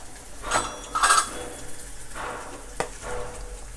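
Mustard seeds, cumin, dried chili and ginger are tempered in hot oil in a pan, giving a light sizzle with a few close metallic clinks of a utensil against the pan.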